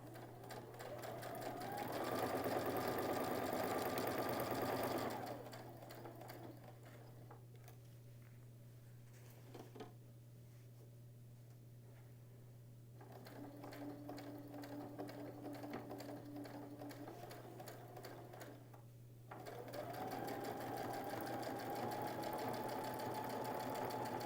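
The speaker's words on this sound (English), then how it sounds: "add your walking foot onto the machine at this point in time so that you can sew through" Domestic sewing machine fitted with a walking foot stitching through bulky quilt layers, bursts of rapid even motor-driven stitching separated by quieter pauses, close and clear with no talking.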